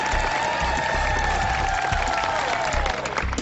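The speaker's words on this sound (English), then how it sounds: "give Quentin and Nile a big round of applause." Sustained audience applause fills the room, dense and continuous, with a faint tonal sound sliding underneath.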